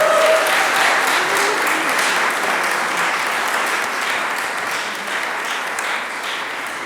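A crowd at a Pride flag raising gives sustained applause to welcome a commissioner, loud and dense, then slowly tapering over several seconds.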